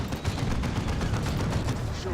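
Battle gunfire in Dawn of War II, dense overlapping rattling shots and impacts from several weapons firing at once, loud and continuous, with some voice underneath.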